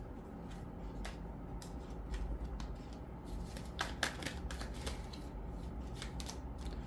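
Tarot cards are handled and shuffled, giving soft, repeated papery flicks and riffles that come in quick clusters against a quiet, steady room hum.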